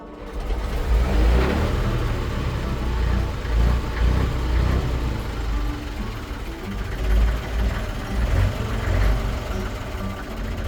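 An old 4x4 truck's diesel engine idles loud and close, a rough mechanical clatter that pulses unevenly throughout with no voices.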